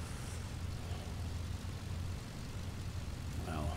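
Aircraft engines running in a flight simulator video game, a steady low droning hum that holds evenly throughout, moderately quiet with no voices.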